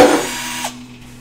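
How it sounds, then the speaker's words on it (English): An electric drill whirs loudly and close for about half a second, then spins down and stops, leaving a faint hum. "I got my drill."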